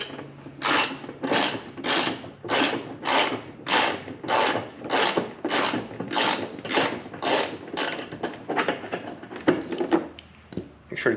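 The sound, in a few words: ratchet loosening 14mm bumper bolts on Toyota 4Runner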